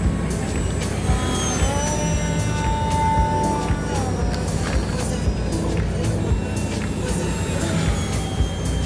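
Steady engine drone of a radio-controlled model airplane in flight with a rising and falling whine, heard continuously over wind and rumble, with no talking.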